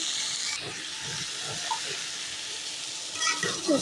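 Vegetables frying in a pan give off a steady hiss and sizzle, with a few faint clinks and scrapes near the end, heard close up without talk.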